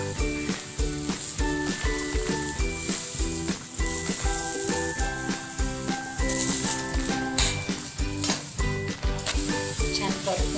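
A cucumber paratha roasts on a hot pan with a soft, continuous sizzle that sits beneath louder rhythmic background music throughout.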